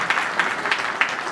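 An audience at a Vishwakarma Dodiya community get-together in Chotila claps together. The clapping is loud and close, with a steady pulsing rhythm that swells roughly every third of a second.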